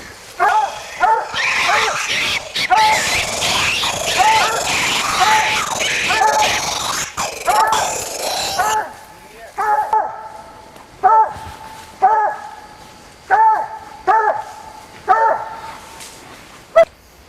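Hunting dogs on a youth hunt bark and whine nearby, first in a busy overlapping chorus, then in a string of separate yelps and whimpers spaced every second or so, with people talking over them.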